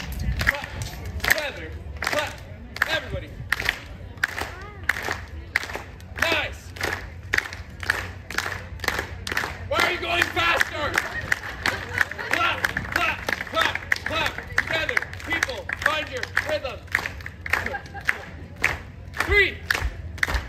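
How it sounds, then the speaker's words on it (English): At a street show on San Francisco's Pier 39 near Fisherman's Wharf, an outdoor crowd claps in a steady rhythm of sharp, repeated hand claps for about twenty seconds, with shouts and cheering mixed in. "can I get everyone watching, no matter how far away you are, to give a nice hand clap?"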